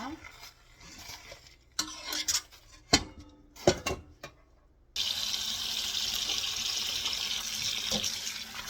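Blanched sea parsnip greens being lifted from hot water into a bowl of cold water in a kitchen, with clattering and splashing, then a steady running tap filling the sink; a person talks at moments.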